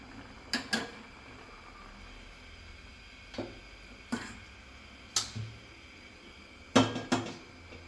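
A metal pan set down on a home stove to temper oil for a bottle gourd buttermilk sambar, heard as a handful of sharp, close clanks and taps spread irregularly over a quiet room hum.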